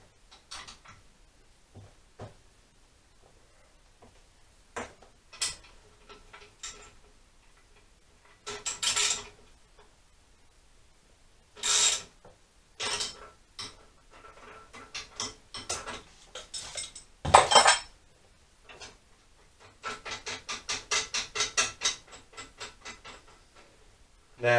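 Metallic clicks, ticks and scraping of a head bearing being wound into a Honda CBR400 frame with a bearing puller, sounding as sparse close taps at first, then denser bursts of ratcheting and grinding.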